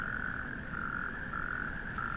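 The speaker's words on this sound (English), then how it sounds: "A couple of natterjack toads." Natterjack toads croak on a mild spring night in an overgrown industrial junkyard, a steady, loud rattling trill that runs unbroken throughout, with a soft low rumble beneath.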